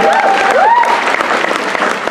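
A live audience applauds at a fan gathering, a dense, steady wash of clapping with a few cheers and whoops rising over it, filling the room for the whole stretch.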